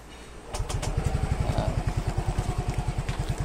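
A Honda Fazzio scooter engine cranks and catches, then settles into a steady, rhythmic idle with regular thumping pulses, close by.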